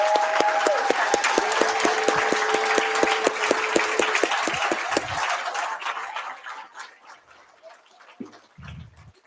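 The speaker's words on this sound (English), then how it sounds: "give everyone else a big round of applause" A crowd at a student success awards celebration breaks into loud applause, with some steady tones underneath. The clapping thins out and fades to scattered claps and quiet after about six seconds.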